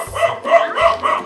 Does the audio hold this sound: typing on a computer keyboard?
no